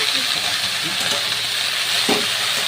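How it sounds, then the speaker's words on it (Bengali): Kulekhara greens with potato and eggplant sizzle steadily in a frying pan, close up, with a couple of short stirring scrapes and a sharper clack near the end. "প্রায় চার মিনিট ধরে আবারও ভালো করে ভাজা করে নিতে হবে"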